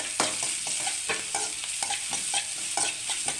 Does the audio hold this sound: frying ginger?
yes